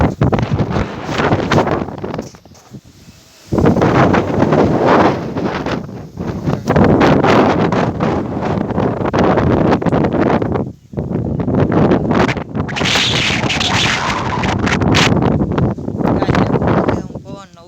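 Strong wind buffets the microphone outdoors, producing a loud, gusty roar with a few short lulls, while a person talks over it.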